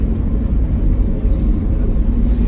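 Factory exhaust of a 1967 Camaro RS/SS held at a couple thousand RPM, a steady, loud, deep rumble that stays even and crisp throughout, with no drone and no voices over it.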